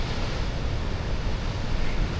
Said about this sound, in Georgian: პორტომონიზის ბუნებრივი აბანოები დღეს მშველებელ ტალღებს ჰქონდა ოკუპირებული